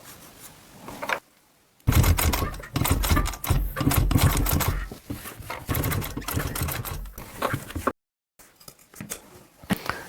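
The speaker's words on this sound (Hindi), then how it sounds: "यहाँ भी हमने पट्टी के ऊपर किनार की सिलाई चलाना है" Sewing machine running an edge stitch along a fabric strip, with a few bursts of rapid mechanical stitching chatter separated by short pauses, close and fairly loud.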